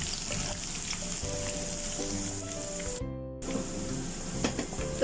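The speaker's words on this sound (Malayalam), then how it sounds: "ഈ ഇഞ്ചിയും വെളുത്തുള്ളിയും ഒക്കെ ഒന്ന് മൂത്ത് വരുമ്പോഴത്തേക്ക് നമുക്ക് മസാലയൊക്കെ ചേർത്ത് കൊടുക്കണം" Ginger and garlic frying in hot oil for a cut mango pickle, a steady close sizzle with faint stirring scrapes and a short break partway through.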